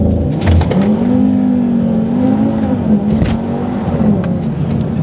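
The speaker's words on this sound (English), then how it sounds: "that 5-cylinder sound, man, it is a fantastic noise" Audi TT RS 2.5-litre five-cylinder engine accelerating hard while driving, a loud, steady throaty drone whose pitch rises and falls across the pull, heard from inside the car with no talking.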